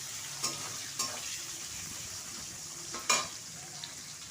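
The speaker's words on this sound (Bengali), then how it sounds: "পেঁয়াজটা একটু লাল করে ভেজে নেব" Onions sizzle softly in a pan while frying for mutton curry, a quiet continuous hiss broken by a few scraping stirs.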